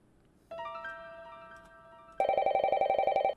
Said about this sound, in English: Sounds less like a cell phone and more like a desk phone